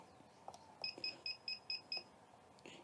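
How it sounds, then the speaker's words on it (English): Six short, evenly spaced electronic beeps from a brewing timer being set during a brew-in-a-bag all-grain stout mash, close and clear over a quiet background, with a faint click or two before and after. "I'm going to set the timer for 10 minutes"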